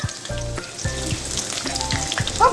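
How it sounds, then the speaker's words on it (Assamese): Pulao rice fries in a hot pan before meat is added, giving a steady close sizzle with faint, regular tonal clinks and stirring scrapes. "এফালে পোলাও ভাজি আছে, পোলাও মাংস বনাবলৈ।"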